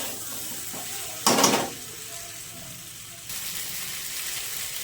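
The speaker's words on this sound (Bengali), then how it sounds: "এবার ভেজে রাখা আলু পটলটা দিয়ে দেবো। আবারও মশলার সাথে কষবো," Fried potato and pointed gourd dropped into hot spiced oil in a pan, a sudden loud sizzle burst that settles into a steady, quieter frying hiss, then a renewed sizzle.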